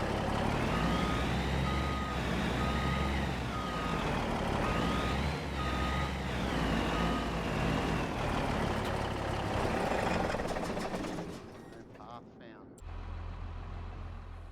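Truck in Farming Simulator 25 backing up to hook a trailer, its reversing beeper sounding in a steady repeating rhythm over a loud diesel engine drone, with a hiss of air brakes near the end.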